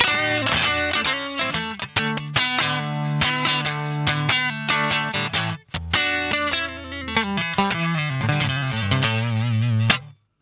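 Fender Stratocaster electric guitar on the neck pickup with a bluesy tone, played alone as a loud, close stream of picked notes and bends with a slightly driven edge, pausing briefly near the middle.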